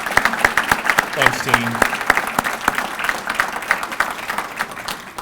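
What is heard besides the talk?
audience applause at business address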